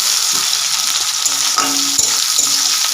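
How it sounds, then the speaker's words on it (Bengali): Chopped onion frying with whole garam masala spices in hot oil, a steady close sizzle with a few scraping stirs and clinks, no voices. "গোটা গরম মশলা ফোড়ন দিয়ে পেঁয়াজ দিয়ে দিয়েছি পেঁয়াজটা একটু ভাজা হোক"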